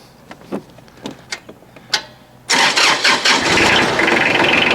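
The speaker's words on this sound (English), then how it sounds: "let's start this tractor and let it warm up" A few clicks and whirs of a starter, then a tractor engine catches and roars loudly into a steady, rumbling idle.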